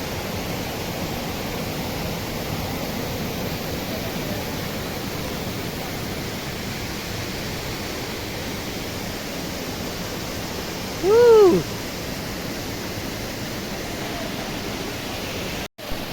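A waterfall in Sukma roars as a steady, dense wash of broadband noise. It stays unbroken throughout, with one brief high call rising over it near the end.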